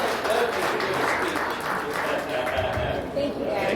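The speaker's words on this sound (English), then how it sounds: "So give them another round of applause." Spectators clap at a bass fishing tournament weigh-in, a round of applause running throughout with voices and chatter mixed in nearby.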